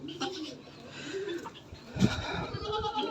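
Goats on a farm with a home zoo and chickens let out a few bleats among cooing birds and faint voices, all moderately quiet and close.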